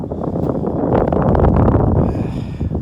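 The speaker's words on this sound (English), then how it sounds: "It is windy though." Steady wind buffeting a microphone, a loud continuous low rumble with gusty swells throughout and no voices.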